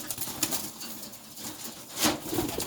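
Racing pigeons scramble inside a cage, with bursts of wing flapping and rustling against the bars and a soft coo or two over a low indoor background.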